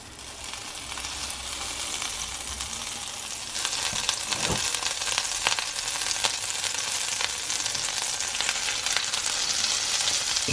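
Butter sizzles in a hot frying pan for pancakes, a steady close crackle that swells louder partway through, with scattered pops and no talking.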